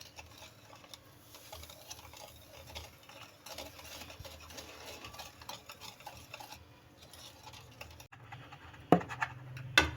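Flour is stirred by hand into cake batter, giving a quiet, continuous scraping and swishing that stays soft and steady, with a few louder knocks near the end.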